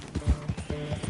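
Horse hooves clip-clop at a quick, regular gallop in Red Dead Redemption 2, close and clear, with no talking.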